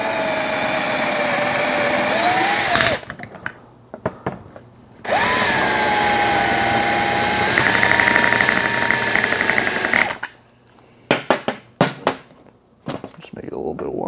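Power drill widening a hole in a Maple Leaf mag holder for a TM VSR-One airsoft rifle, two long loud whining runs with a short pause between, then a few brief bursts, close by.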